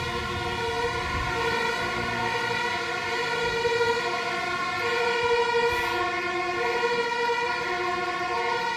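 A fire truck siren wails continuously on an Amsterdam street, loud and close as the engine passes, its steady rising and falling tones filling the whole stretch with steady traffic rumble underneath.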